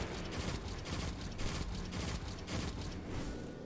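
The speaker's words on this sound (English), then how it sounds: "Let's start to toss grenades over there." Grenade blasts in Destiny 2 come as a steady series of dense, rumbling bursts about every half second, loud and close, with no voices over them.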